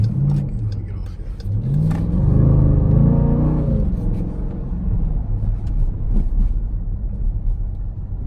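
A Dodge Durango SRT engine revs hard and loud while the heavy SUV drives, a rising, throbbing roar that swells and settles, with a voice talking over part of it.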